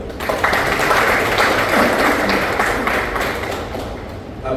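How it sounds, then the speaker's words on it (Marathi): Steady applause from an audience honoring retiring staff members at a farewell function, a dense wash of many hands clapping that stays fairly loud and even for the whole stretch. "पुन्हा आपण त्यांच्यासाठी खास आणि सेवेसाठी खास टाळ्या वाजूया."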